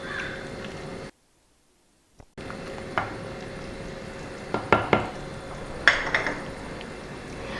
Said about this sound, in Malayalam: ചെറുതായിട്ടൊന്ന് മിക്സ് ചെയ്ത് കൊടുക്കാം അല്ലേ.